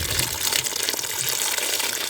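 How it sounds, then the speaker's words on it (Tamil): Water pours steadily into a pot of South Indian wedding-style cabbage kootu, a continuous close gushing splash lasting throughout with no talking. "எல்லாம் போட்டு பிறகு இப்போ தண்ணி சேர்த்து"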